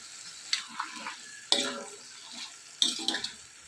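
Chicken with ginger garlic paste is stirred in a pan: three quiet scraping spoon strokes with soft sizzling between them, fairly close but faint.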